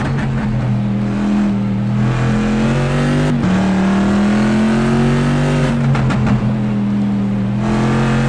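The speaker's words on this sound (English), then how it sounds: "you hear one of the best sounding cars, according to the drivers, the Corvette." A Corvette race car engine roars loud and close during an endurance race at Spa in Belgium, its steady high-pitched drone rising and falling through gear shifts, with a brief dip near the middle as it passes.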